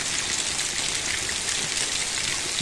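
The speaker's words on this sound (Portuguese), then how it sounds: "Vamos assistir a esse vídeo para os irmãos ver como que está a chuva aqui na região de Cajamar." Heavy rain falling in Cajamar, a dense, steady hiss of downpour close by and fairly loud throughout, with no voices.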